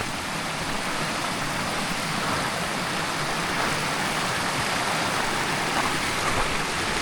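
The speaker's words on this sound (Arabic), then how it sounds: "شلال" Steady, loud rush of a waterfall on a mountain path in the Alps, broadband roaring water noise that stays constant throughout with no voices.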